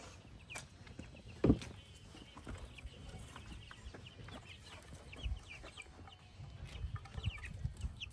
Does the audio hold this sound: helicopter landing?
no